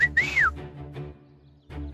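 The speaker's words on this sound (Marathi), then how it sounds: "काय केलंस तू? शिट्टी वाजवली अशी." A person whistles a short rising-and-falling tune, loud and close, in a domestic scene from a Marathi TV serial, followed by soft room sounds and a brief murmur near the end.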